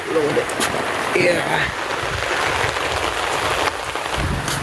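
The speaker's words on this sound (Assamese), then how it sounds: "বৰষুণ দেখিছে নাই কি ধুনীয়া আজি" Steady rain patters on a surface close by, a constant wash of drops with a voice speaking briefly over it.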